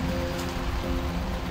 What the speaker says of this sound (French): Donc là il pleut actuellement.